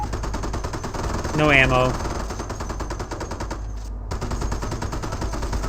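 Sustained, rapid .50 cal machine gun fire in Company of Heroes, a loud continuous rattling stream with a brief gap near the end, a short voice line heard over it.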